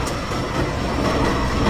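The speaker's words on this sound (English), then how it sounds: "The train is going." A train passing close by, a steady broadband rumble of wheels and rail noise that holds at an even, loud level throughout with no voices.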